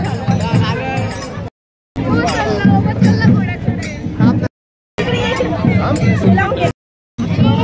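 Crowd babble fills a Khandoba temple beside a river, many overlapping voices and bustle close by, cut by brief silent gaps, with a faint metallic clink now and then.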